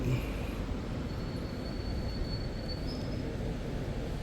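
Steady rumble and clatter of a Thai express train, number 141 on the northeastern line, rolling along the rails, heard from inside, with a faint high squeal of wheels drifting in and out.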